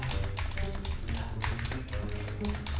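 Fast, continuous tapping on a computer keyboard, a rapid rattling stream of clicks that runs throughout over a low background hum, with no talking.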